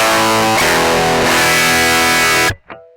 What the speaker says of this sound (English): here's the sound of the Revival Drive just on its own.